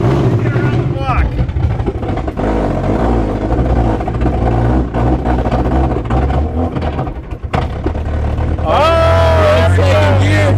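A car running on straight moonshine drives in second gear, its engine droning loud and steady throughout, with a brief dip near the end before it picks up again. People talk and shout excitedly over the engine.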